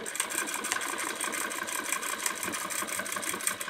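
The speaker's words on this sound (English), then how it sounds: "I will come back right over the finish of the fabric so I can just do a simple lock stitching here." A domestic sewing machine lock stitching over the edge of a free-motion quilted border, running as a steady, close, rapid mechanical whir with an even stitch rhythm throughout.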